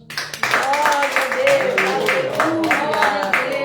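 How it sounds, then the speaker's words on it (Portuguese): Worshippers at a church service clap for Jesus in a lively, rhythmic beat, close and loud, while people sing and call out over the clapping. "E as palmas para Jesus."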